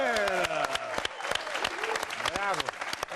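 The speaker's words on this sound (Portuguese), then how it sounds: "Uma salva de palmas." A studio audience gives a sustained burst of clapping, loud and close, with excited cheering voices mixed in over the applause.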